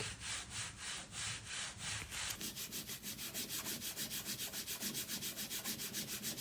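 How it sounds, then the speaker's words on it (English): A black final layer of a linocut print is burnished by hand, a close, steady rubbing rasp that repeats in quick even strokes, faster and more regular in the second half. "This technique is called burnishing. You're really just kind of pressing and rubbing"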